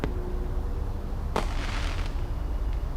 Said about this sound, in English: The fireworks will be over soon.